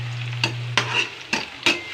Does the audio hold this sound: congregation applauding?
no